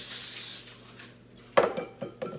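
Cooking spray hisses from an aerosol can onto plastic wrap in a kitchen, one short burst at the start, followed by light clinks and handling sounds of a bowl.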